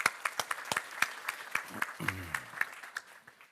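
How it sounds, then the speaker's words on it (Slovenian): Audience applause at an AmCham business breakfast, scattered claps ringing out in a moderate, uneven patter with a brief murmur of voices partway through. "Tako da en aplavz za našo Ajšo, prosim."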